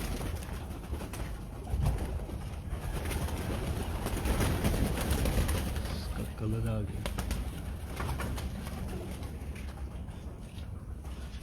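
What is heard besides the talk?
pigeons cooing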